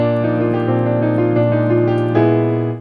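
A digital piano's CFX grand piano sample plays a sustained chord with a few notes changing on top, rich and resonant, no voices.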